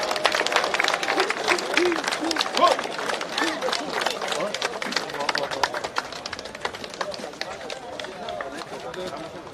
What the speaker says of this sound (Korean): 후보자님들에게 뜨거운 박수 부탁드립니다